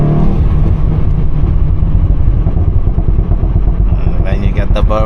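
A tuned VW Golf 7.5 GTI engine rumbles steadily up close, with a few crackling exhaust burbles and pops near the end.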